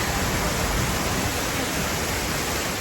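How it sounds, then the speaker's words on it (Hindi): Steady, loud roar of a waterfall on the Kedarnath pilgrimage trail in the mountains, a dense continuous rush of falling water with no break and no voices. "वाटरफॉल की ही आवाज़ आ रही है"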